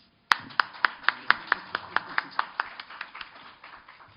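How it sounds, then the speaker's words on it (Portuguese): Sparse clapping welcomes a guest at a lecture about J. D. Salinger, a few pairs of hands giving evenly spaced claps that gradually fade, with a faint voice underneath. "eu queria agora receber o João Paulo, querido amigo, com aplausos de boas-vindas."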